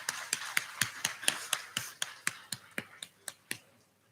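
Rhythmic clapping at an eighth-grade graduation ceremony for students honored with cords: about fifteen sharp, evenly spaced claps that stop abruptly near the end.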